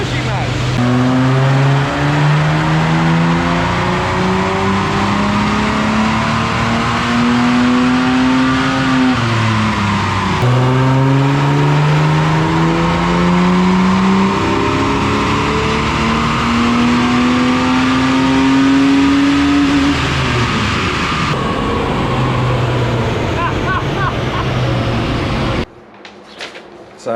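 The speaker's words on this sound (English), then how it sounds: "Let's see how much power she makes." The engine of a Ford Falcon drift car revs on a dyno. Long, loud wide-open pulls climb steadily in pitch, drop back, and climb again, running continuously before cutting off abruptly.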